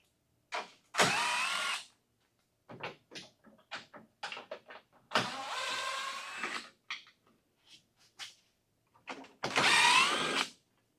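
A power tool works loose the front bumper bolts on an OBS Chevy truck, three loud buzzing bursts of about a second each separated by quieter clicks and handling clatter, close by.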